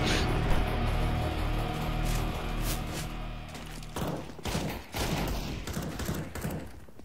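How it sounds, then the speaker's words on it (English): Rapid bursts of gunfire from the video game CS:GO during a competitive match, loud and dense for the first four seconds, then scattered shots and thuds with some faint talk underneath. "I can't stand these gun sounds now."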